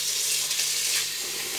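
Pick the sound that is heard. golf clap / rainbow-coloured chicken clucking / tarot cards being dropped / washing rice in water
washing rice in water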